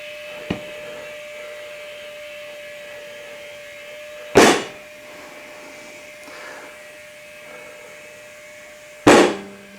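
A tire bead pops onto the rim while inflating on a Harbor Freight tire changer, with sharp loud bangs standing out over a steady air hiss and hum, the last pop strongest.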